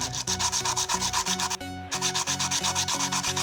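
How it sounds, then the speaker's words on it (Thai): Steady back-and-forth rubbing of a wooden frog fishing lure's mouth being sanded smooth, a continuous rhythmic scraping close up with a brief pause midway, no voices. "ฝนตรงที่ปากนิดนึง"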